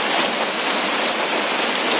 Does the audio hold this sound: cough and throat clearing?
no